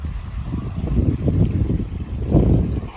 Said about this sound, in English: It's suddenly got really breezy.